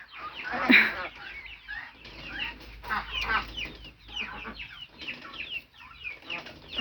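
Several chickens cluck and chatter nearby in irregular bursts, with soft background rustling and no clear speech.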